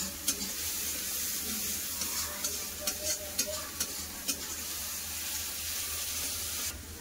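Onion frying with green chilli, turmeric powder and salt, a steady close sizzle broken by a run of quick scraping stirs from a spatula against the pan, with no talk.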